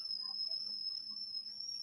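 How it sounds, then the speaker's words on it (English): A kettle whistles in a home with a single steady, high, piercing tone that holds unbroken for the whole moment, faint and somewhat distant. "y'all hear that coffee tea going off?"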